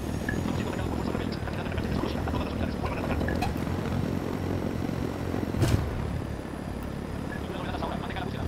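A drone flying overhead in the video game Ghost Recon Wildlands gives a steady, whirring hum that holds at an even level throughout, under faint background game ambience.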